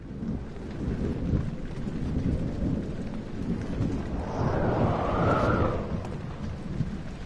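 Heavy rain pours in the horror video game Amnesia as thunder swells into a long rolling rumble midway, loud and close, with no voices over it.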